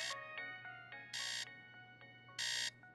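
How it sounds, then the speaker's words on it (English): The Bat phone rings in a cartoon, sounding as bright electronic chimes and trills with two loud sustained ringing bursts over a steady hum, with no talking. "is that the bat phone?"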